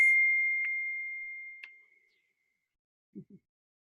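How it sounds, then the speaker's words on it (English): A single bright bell tone rings out at a full moon circle gathering, sustaining and slowly fading over about two seconds with a couple of faint touches, followed by silence and two soft low knocks. "did you hear the bell that was just affirming that for all of us?"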